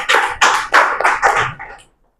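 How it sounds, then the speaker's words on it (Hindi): A group of students claps in several loud bursts of applause, close by, fading out after about two seconds. "ताली उनके लिए।"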